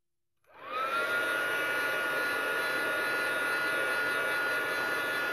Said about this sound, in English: heating it up with your heat gun and it comes off easier, and it does